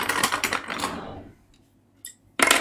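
Scissors cut through paper for a funky fold card, a quick run of close crisp snips that trails off into near silence before a final sharp snip.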